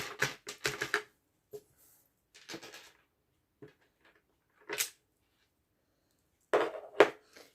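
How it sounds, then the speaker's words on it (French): A craft paper punch clacks through paper in a quick cluster of sharp clicks and snaps, then a few isolated clunks and a final double snap, with quiet gaps between. "Et on va aller faire notre troisième qu'on va pouvoir découper directement avec la perforatrice."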